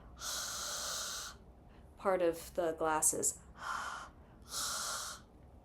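Ujjayi pranayama breathing, air drawn through a constricted throat with the tongue raised toward the back of the mouth, heard as long, steady hissing breaths alone at the start and end, with a voice talking in between.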